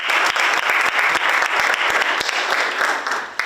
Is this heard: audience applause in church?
yes